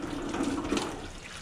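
Vinegar is poured over a rusty engine block during rust removal, making a steady watery splash and gush with no voices.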